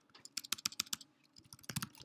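Rapid bursts of typing on a computer keyboard, quick clattering key clicks in two short runs separated by a brief pause, close and clear with no voice.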